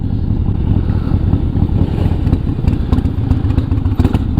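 A Shovelhead motorcycle engine running while the bike is ridden: a loud, close, continuous rumbling drone with a rapid uneven beat and some rattling clatter, with no talk.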